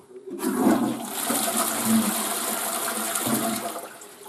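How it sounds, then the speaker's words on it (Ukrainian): Dirty tap water is poured out of a household container, a loud gushing splash that starts abruptly, runs steadily for a few seconds with brief surges, then tapers off, with no talk. "І зараз я воду тут зілью."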